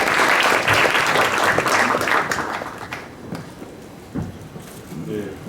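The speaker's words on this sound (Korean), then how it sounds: "박수로 모셔볼게요" An audience claps to welcome a speaker at a Korean business forum, dense applause that fills the first three seconds and then thins and fades, with a few scattered claps and brief talking at the end.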